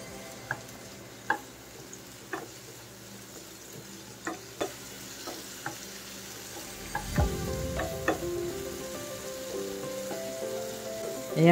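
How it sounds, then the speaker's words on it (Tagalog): Kangkong (water spinach) sizzles in a frying pan, with a spatula scraping and knocking in an irregular rhythm. The steady frying hiss runs under the strokes, which grow busier toward the end. "haluin lang natin siya"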